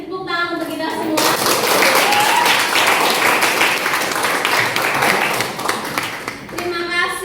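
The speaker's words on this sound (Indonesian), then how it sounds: "Oke, tepuk tangan untuk kita semua." A classroom of students breaks into loud, dense applause lasting several seconds, starting right after a teacher speaks and fading as her voice returns at the end.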